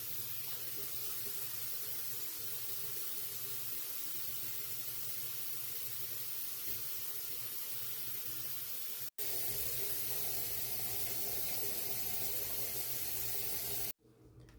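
A bathroom tap runs steadily while someone washes and rinses their face, a continuous close hiss of flowing water with two brief breaks and a cutoff near the end.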